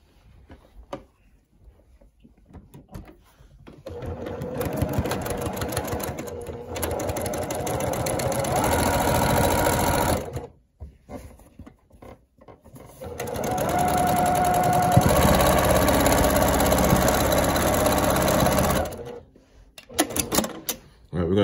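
Sewing machine stitching a quarter-inch seam along a two-inch-wide, ten-inch-long strip of quilt sashing, running in two long loud bursts with a short pause between, close by.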